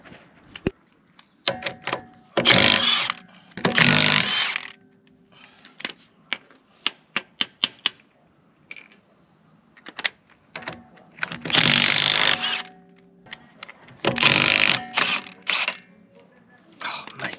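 Wheels come off a MK6 Ford Fiesta ST150 for rear hub work, with loud rattling bursts of about a second each from a power tool between scattered metallic clicks and clatter, close by.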